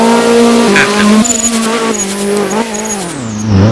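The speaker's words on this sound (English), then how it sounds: "slams into the wall a lot, slams into both walls, pushing the car a lot" A Group B rally car in a Roblox racing game screams along with rising and falling engine tones and squealing, skidding tires, loud and close throughout the run.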